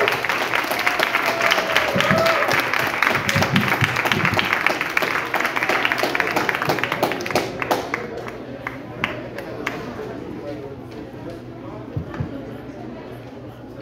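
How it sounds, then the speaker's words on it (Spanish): An audience applauds steadily at a book presentation at a book fair, a dense, sustained clapping that gradually thins toward the end while a presenter's voice speaks over it. "Un fuerte aplauso, por favor."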